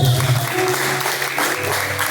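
Congregation clapping in praise during a live evangelical church service, a steady dense patter of hands with a low sustained tone and faint voices underneath.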